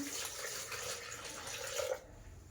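Hot water poured for kneading sourdough bread dough, a short steady trickling pour into a bowl lasting about two seconds before stopping, faint and close, no speech over it.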